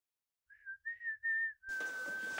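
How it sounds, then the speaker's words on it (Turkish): Indoors, a person whistles a few short rising-and-falling phrases, then holds one long steady note while a broad rushing noise suddenly fills the room behind it. "Kim ayol o ıslığı çalan?"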